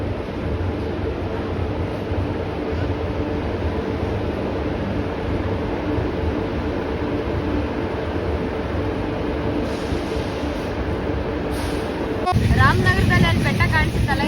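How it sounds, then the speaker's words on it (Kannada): 12786 Mysore-Kacheguda Express pulling out of Ramanagara station, a steady loud rumble of rolling wagons throughout that swells into heavier rattling and clatter near the end, with faint voices underneath. "1 ಮಿನಿಟ್ ಆಗಿದ ತಕ್ಷಣ ನಮ್ಮ ಟ್ರೈನ್ ಡಿಪಾರ್ಚರ್ ಆಗುತ್ತೆ ರಾಮನಗರದಲ್ಲಿ."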